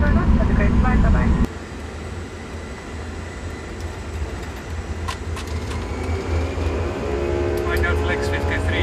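A commercial aircraft on a runway in Antarctica, a loud, steady engine roar filling the cabin, with a heavy rumble that drops after a second and then holds, while cockpit voices speak over it.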